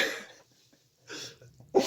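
A few short, sharp coughs burst out close by, separated by quiet pauses.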